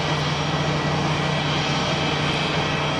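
An Airbus A220 climbs out after takeoff at Geneva with its gear retracting, a loud, steady jet roar with a high engine whine running throughout.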